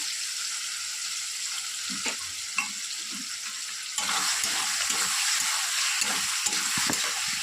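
Vegetable gravy pasta with soy sauce, chili sauce and tomato ketchup gently stirred in a pan, a soft steady sizzle broken by light scraping and stirring strokes, close and moderately quiet.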